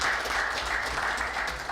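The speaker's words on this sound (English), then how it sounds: "let's give him another round of applause" An audience at a city council meeting gives a steady round of applause, a continuous dense wash of clapping throughout.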